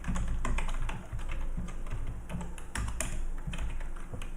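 Rapid keystrokes on a computer keyboard while entering code to import a constraint layout in Android Studio, a close, irregular run of clicks and taps with occasional louder key hits, no speech.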